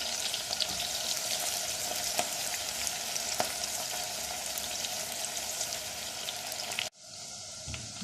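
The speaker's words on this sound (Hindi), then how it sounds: "ये प्याज सौते हो गई है बिल्कुल सब, बस हल्की सी नरम करनी है प्याज" Onions softly sautéing in a pan for beef haleem, a steady dense sizzle that runs unbroken for about seven seconds, then drops abruptly to a faint, quieter crackle near the end.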